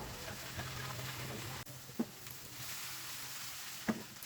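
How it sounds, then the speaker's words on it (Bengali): Marinated pangas fish frying in mustard oil in a frying pan, a steady sizzling hiss running throughout, with a few brief clinks and stirring knocks, close and moderately quiet. "চুলায় একটা ফ্রাই প্যান বসিয়ে পর্যাপ্ত পরিমাণে সরিষার তেল দিয়ে দিলাম, তারপর সেই ম্যারিনেট করা মাছ দিয়ে দিলাম।"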